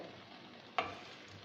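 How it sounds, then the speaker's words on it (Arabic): Chicken and sautéed onions frying in a pan, a steady soft sizzle with one brief clink or stir near the middle, no talking. "هنا بعد ما الدجاج تاعنا تقلى مليح وهداك البصل تاعنا داب"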